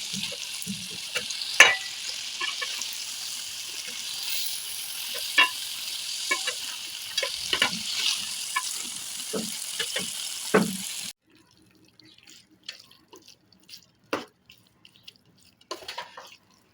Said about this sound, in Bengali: সুন্দর করে উল্টা পাল্টা নিচ্ছি শাকগুলো ও কাঁঠালের বিচি, ডাঁটা।